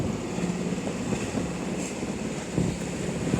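Strong wind buffeting a sailboat under way, steady broadband roar and rumble of gusts against the microphone with faint water wash, continuous and loud, no speech.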